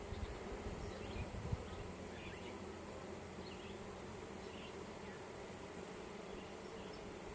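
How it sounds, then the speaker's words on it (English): Guard honeybees buzz around a large hive opened for a full inspection, a constant close droning hum with bees darting nearby and a brief bump early on. "One of these guard bees doesn't like me."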